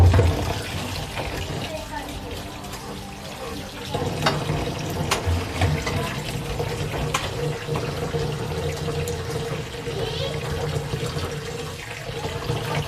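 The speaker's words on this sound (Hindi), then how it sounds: "अब हम चावलों को अच्छे से धो लेंगे।" Rice being rinsed for a homemade chicken biryani: steady running water splashes in a sink with the clatter of handling and some dull knocks, close by and fairly loud, with no talking.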